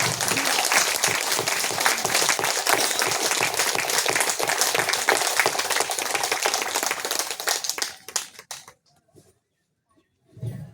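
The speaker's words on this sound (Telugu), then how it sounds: "ఆ ఇద్దరికి ఒకసారి గట్టిగా చప్పట్లు కొడదాం." A large audience at a spiritual discourse claps loudly and steadily for about eight seconds, then the applause fades out to near silence before a brief final burst.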